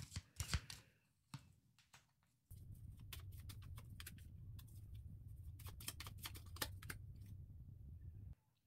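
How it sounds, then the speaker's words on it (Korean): Tarot cards are drawn from a deck with quiet, close rustling and papery flicks. A few sharp snaps come first, then a longer soft shuffle, with no voice. "카드 뽑아 보겠습니다"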